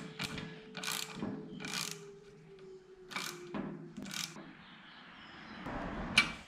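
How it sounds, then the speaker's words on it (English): A ratchet clicks in short bursts as it tightens a hose barb fitting on the loader valve of an old Bolens tractor, several quick ratcheting runs with pauses between, close and clear. "Tighten up the barb fitting."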